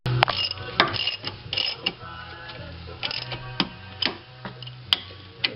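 A bolt on a rear brake caliper being tightened gives quick, close mechanical ticks and ratchet-like clicks in uneven bursts, with a few sharper knocks among them.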